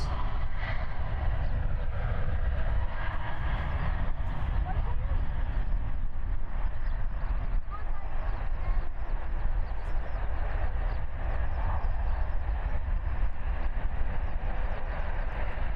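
Jet airliner departing Christchurch airport on a flight to Fiji, a steady loud engine roar with deep rumble sustained throughout, unbroken by talk.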